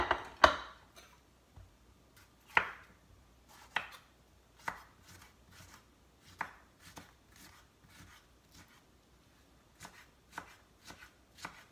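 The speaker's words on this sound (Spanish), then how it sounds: "Ahora lo que voy a hacer es picar la cebolla" A knife chops onion and tomato on a board in sharp, separate knocks, some bunched into quick runs, heard close and alone against a quiet background.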